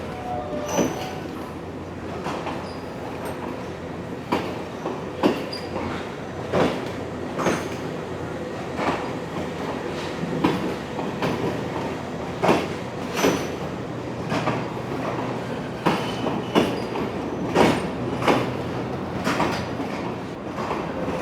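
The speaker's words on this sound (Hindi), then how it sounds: "6:24 हो गए और ये ट्रेन रवाना हो गई गाल के लिए" A passenger train pulls out of Colombo bound for Galle, its wheels knocking over rail joints in a steady, quickening rhythm of clicks beneath a low rolling rumble.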